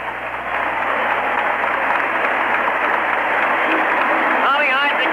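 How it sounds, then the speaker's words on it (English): Basketball crowd in an arena giving a standing ovation during a 1975 radio broadcast, with steady, dense applause and cheering filling the clip, heard through a band-limited radio signal. "A standing ovation from everybody in the building."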